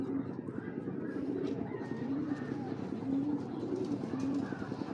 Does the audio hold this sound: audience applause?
no